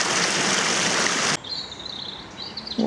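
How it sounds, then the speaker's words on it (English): The River Lee rushes steadily as a loud broadband wash of flowing water for over a second, then cuts off and leaves quieter outdoor ambience with faint bird chirps. "So there we go, the River Lee,"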